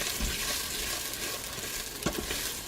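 Food stirred and toasting in a hot pan, a dense close sizzle with a couple of soft scrapes of a spoon, no voices.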